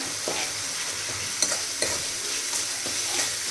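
Spinach bhaji with spices being stirred and sautéed in a pan, a continuous soft sizzle with a few sharp scrapes and taps of the spoon against the pan.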